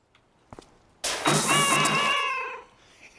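A game cat in PowerWash Simulator 2 lets out one long, loud, drawn-out meow after a couple of faint clicks, close and clear, fading away into quiet.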